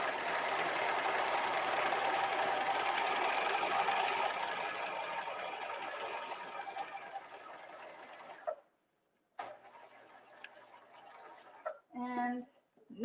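A sewing machine runs steadily, stitching a line for about eight seconds at close range, then stops, followed by a few short bursts of stitching and handling noise.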